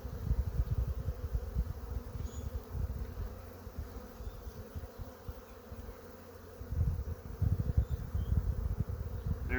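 Honeybees buzz around an opened hive during an inspection of frames for feed and brood, a dense, close, continuous drone that swells and fades without any talk.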